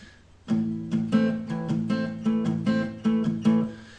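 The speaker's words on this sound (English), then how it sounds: "And so what I'm doing there is I'm palm muting." Palm-muted acoustic guitar strummed in a steady rhythm, about a dozen short damped chord strokes after a brief pause, close and fairly loud with no voice.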